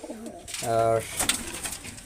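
A pigeon in a flying loft gives a short, close coo, with a person talking softly around it.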